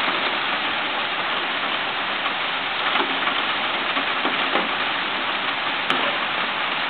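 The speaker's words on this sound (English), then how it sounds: "It is a pretty rain" Steady rain pours down evenly throughout beside a house, a dense hiss with occasional nearer drips and ticks standing out.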